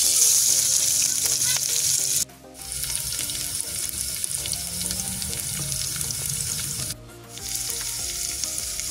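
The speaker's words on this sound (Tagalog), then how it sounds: "Bali kapag mainit na yung lana, ilagay na natin ang sibuyas." Onion fries in hot oil in the early steps of chicken gizzard adobo, a loud, dense, close sizzle running throughout, briefly dipping twice as if stirred or the pan shifted.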